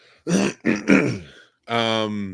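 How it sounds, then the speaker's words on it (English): A few rough throat-clearing coughs close up, followed by a short voiced sound. "I coughed just as I said I like that review."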